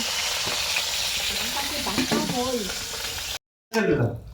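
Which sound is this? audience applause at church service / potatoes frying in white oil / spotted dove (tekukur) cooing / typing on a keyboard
potatoes frying in white oil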